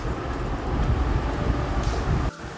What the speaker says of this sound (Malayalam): നമ്മുടെ ട്രെയിൻ എത്തി.